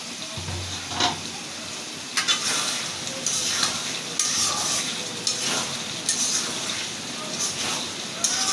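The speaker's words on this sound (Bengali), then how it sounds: "আমি এভাবে সুন্দর করে বটটা ভালো করে ভাজা ভাজা করে নেব" Beef tripe fries in a pan under a moderate sizzle, with repeated spatula scrapes and stirring strokes at an uneven pace, close by, while a person talks at times.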